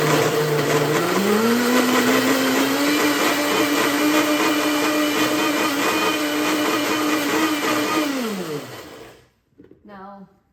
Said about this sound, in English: And then you're going to blend it on up.